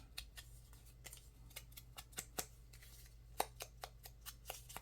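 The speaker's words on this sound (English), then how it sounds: "if it's sticking off the edge, if we want to, we can always cut the edge" Scissors snip paper off the edge of a handmade collage tag, a quick run of sharp, close, crisp cuts at an irregular rhythm over a quiet room hum, with one brief spoken word.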